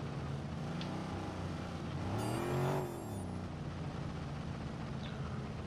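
A car in the open-world game Watch Dogs, its engine humming steadily with one brief rising rev in the middle, moderately close and fairly quiet overall.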